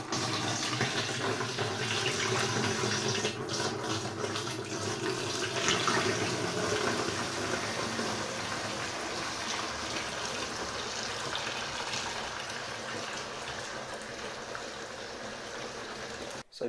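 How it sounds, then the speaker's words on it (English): Cider pouring steadily from a big barrel in a continuous rushing, splashing stream, loud and close, lasting throughout without pause before stopping abruptly. "So I've now got to pour this barrel, this other big barrel."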